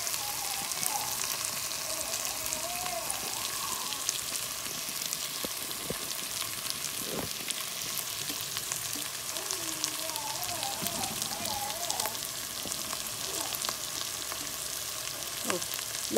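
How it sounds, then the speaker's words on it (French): Chicken pieces fry in a hot pan with a steady, dense sizzle and crackle, occasional stirring pops and a faint voice in the background. "Donc, par la suite, on va venir rajouter nos poulets."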